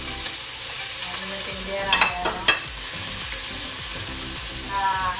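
Tomatoes fry in a pan with a soft steady sizzle. A few sharp clatters of stirring come near the middle, and someone talks quietly over the cooking.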